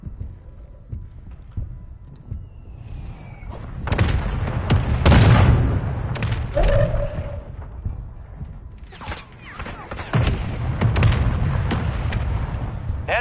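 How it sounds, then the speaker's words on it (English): Mortar strike explosions in a video game boom repeatedly, with deep thudding blasts arriving in clusters, the loudest around the middle and again near the end, over scattered gunfire and battlefield noise. "Friendly mortar strike on the way."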